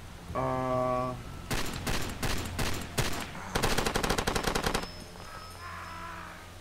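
Gunfire in the video game Far Cry 2: a rapid series of loud automatic bursts, with a tighter, faster volley near the end, set against a low game background.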